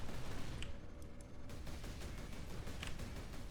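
Rapid gunfire in the Space Marine video game rattles on as a dense, continuous stream of fast shots. It is fairly faint and even throughout, with a few sharper bursts standing out.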